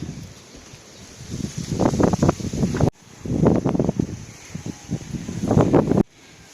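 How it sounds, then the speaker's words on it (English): Gusty wind buffets the microphone in rising and falling surges, loud and close, with brief drops to quiet between gusts. "It's quite windy"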